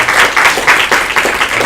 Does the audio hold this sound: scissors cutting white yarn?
no